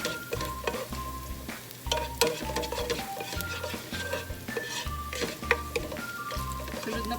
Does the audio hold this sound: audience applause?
no